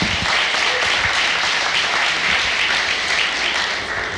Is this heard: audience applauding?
yes